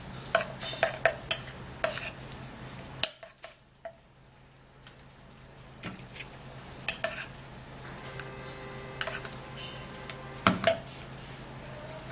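A spoon stirs a cucumber juice mixture in a bowl, giving light scattered clinks and taps against the side, faint and close, with a short quiet gap partway through.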